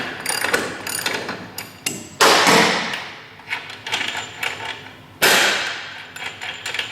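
A 1/2-inch ratchet and breaker bar work a motorcycle rear axle nut loose, giving loud, close bursts of rapid clicking pawl ticks between sharp metallic knocks, with no one speaking.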